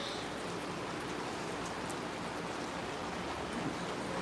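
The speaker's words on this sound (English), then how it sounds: "Guys, you hear the rain?" Long-awaited rain falls outdoors in Kingston near an apple tree, a faint, even hiss that holds steady throughout with no voices.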